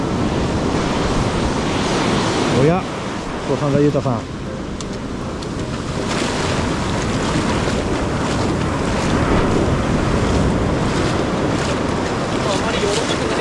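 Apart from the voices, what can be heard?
ocean waves breaking on a surf beach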